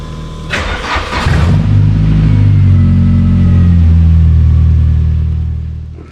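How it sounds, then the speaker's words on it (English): A car being fitted with air ride suspension cranks briefly, then the engine catches and settles into a loud, close, steady idle before fading slightly at the end. "have the honours of switching the ignition on. See what happens."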